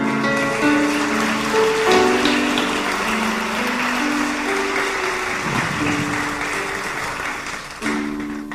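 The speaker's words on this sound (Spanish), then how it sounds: "Dale palmas al Señor." Church congregation clapping for the Lord during a Spanish-language service, steady sustained clapping throughout beneath sung or held musical tones that carry on over it.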